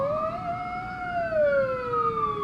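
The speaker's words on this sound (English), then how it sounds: "Wouldn't be a video for me if you didn't hear ambulances and police cars in the background." Ambulance and police sirens wail through a New York City street, one long gliding tone rising and falling steadily over distant traffic rumble, moderately loud and unbroken, with no voices.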